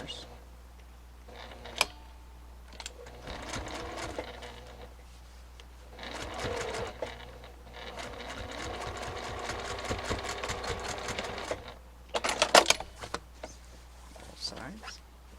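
A sewing machine backstitches elastic onto a fabric face mask in bursts of close, rapid stitching, running for a few seconds at a time with short pauses, while a person talks over and between the runs.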